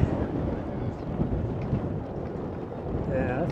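Gusty wind outdoors in Washington DC rumbles steadily across the microphone, a continuous low, rough roar with faint speech mixed in.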